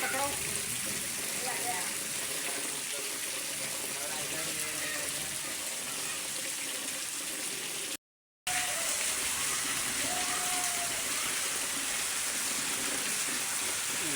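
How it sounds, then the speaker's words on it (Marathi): Monsoon's first rain, unseasonal, in Konkan, falling hard as a dense, steady hiss that fills the whole stretch, broken only by one brief dropout, with faint voices in the background. "आत्ता दर जास्तच पावसाला सुरुवात झाली आहे"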